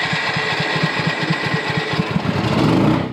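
A small portable generator engine runs steadily close by, its low, rapid put-put pulses thrumming evenly, then swelling slightly rougher near the end, with no talking.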